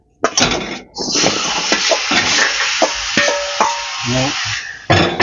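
Grated bottle gourd dropped into hot ghee in a pan, a loud sudden hiss that settles into steady close sizzling with stirring scrapes, and a brief voice partway through.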